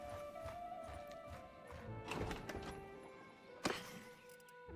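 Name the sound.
horse hooves clip-clop in video game Bannerlord 2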